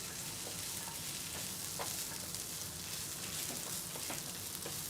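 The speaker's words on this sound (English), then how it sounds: "I'm cooking over a high gas flame here" Food sizzling in a pan over a high gas flame while making masala dosa, a steady, moderately close frying hiss with occasional small pops and stirring clicks.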